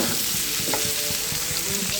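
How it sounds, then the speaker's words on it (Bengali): Rohu fish and potatoes fry in a pan, giving a dense steady sizzle with soft rhythmic scraping of a spatula underneath, close and continuous with no voices. "সম্পূর্ণ মাছগুলো দিয়ে দিয়েছি, সুন্দর করে লাল লাল করে ভেজে নেব"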